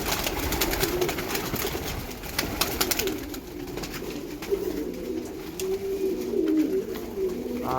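Pigeons coo repeatedly from inside and around an opened coop as the birds get ready to leave, soft throaty calls layered over a busy background of fluttering and shuffling, close by and fairly steady.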